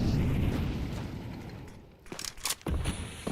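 A grenade explodes in a Counter-Strike 2 match, opening with a deep rumbling blast that fades out, followed by a few sharp clicks and cracks.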